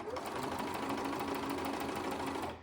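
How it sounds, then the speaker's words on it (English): Sewing machine top stitching along the outside of fabric seams on a sou'wester sun hat, a close, steady rapid mechanical whirr that holds even throughout and eases off at the end. "I just top stitch along the outside, and that just kind of holds those seams in place"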